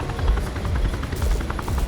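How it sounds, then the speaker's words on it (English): A helicopter in the video game Wildfire World flies overhead, its rotor thudding in a steady, fast rhythm at close range with no talk. "Follow the helicopter."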